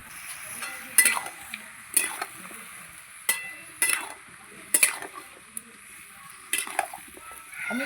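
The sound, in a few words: stirring spinach with fish head in a frying pan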